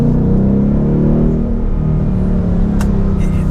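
A 2019 Ford Mustang GT with the Coyote 5.0 V8 and PP2 package, driven on a twisty mountain road, gives a loud, close, steady deep engine rumble with rising and falling pitch as the revs shift.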